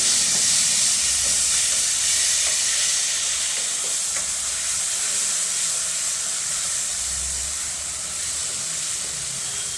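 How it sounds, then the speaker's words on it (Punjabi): Potatoes stirred into sizzling masala in a pan for an aloo methi dish, a steady close frying hiss with soft scraping, no talking. "ਹੁਣ ਆਪਾਂ ਆਲੂ ਪਾ ਦਵਾਂਗੇ ਆਲੂ ਪਾ ਕੇ ਮਿਕਸ ਕਰ ਦਵਾਂਗੇ ਆਪਾਂ"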